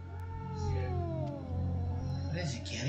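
Cat meowing inside the horror video game DreadOut 2, drawn-out gliding cries over a steady low game drone and ambient hum, with a player voice talking over it.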